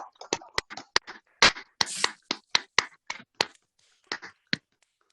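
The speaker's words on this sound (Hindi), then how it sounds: "एक बार जबरदस्त आप सभी लोगों की तालियां होनी चाहिए" Scattered, uneven hand claps from a small audience welcoming a guest at a stage event, with sharp individual claps near and loud in a loose rhythm that trails off toward the end.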